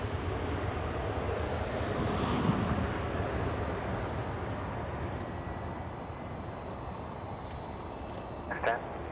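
Airliner on the Orlando flight at LAX, a broad, steady jet roar at a distance mixed with wind rumble, continuous throughout with a faint tonal whine and a brief voice near the end.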